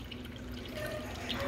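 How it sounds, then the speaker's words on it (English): Water dripping and trickling from water-damaged archival papers, a soft, close, continuous patter with no talking. "after it's done dripping"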